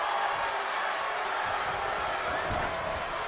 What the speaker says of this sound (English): Gotta love the rowdy crowd here, of course.